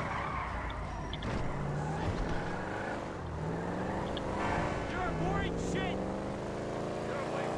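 A Ford Gran Torino muscle car in GTA 5 drives with a continuous engine rumble and changing revs, along with occasional skid noises, while someone talks over it throughout.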